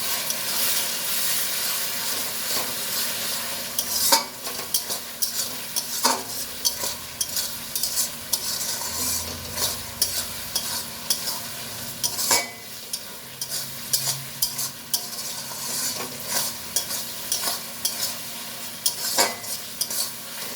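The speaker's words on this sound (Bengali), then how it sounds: "এবার এই সময় দিয়ে দেবো আদা বাটা। ভালো করে মশলাগুলো কষিয়ে নেব।" Spices and ginger paste being stirred and fried in a pan for a Bengali chhechra dish, with steady sizzling and frequent scraping strokes of a spoon against the pan, close and continuous.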